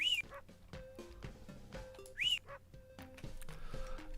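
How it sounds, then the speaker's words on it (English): A dog in a Newgrounds video game barks in several short, muffled bursts spread across a few seconds, faint and distant-sounding, with two quick rising whistle chirps and soft ambient music underneath. "All I just hear is woof, woof, and no sense of direction"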